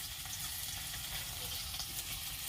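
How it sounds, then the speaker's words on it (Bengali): Quiet, steady sizzling of three pieces of fish frying in hot oil in a wok, a continuous soft crackle with no talking. "কড়াইতে তিন পিস লাজা রয়েছে এগুলো ভাজা হচ্ছে"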